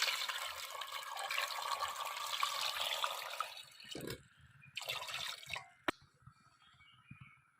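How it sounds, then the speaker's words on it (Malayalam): Water pours steadily into a pressure cooker for boiling purple yam for a few seconds, then stops, followed by a few faint clinks and splashes. "ആവശ്യത്തിന് വെള്ളം ഒഴിക്കുന്നുണ്ട് നമ്മൾ"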